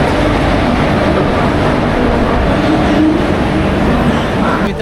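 A steady, loud rumble fills the cabin of a moving passenger train in Maharashtra, continuous and unbroken with no clear voices.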